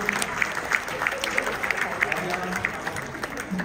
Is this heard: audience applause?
yes